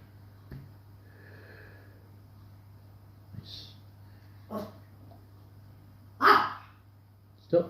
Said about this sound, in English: Stop barking at Storm, she's sleeping, you silly boy.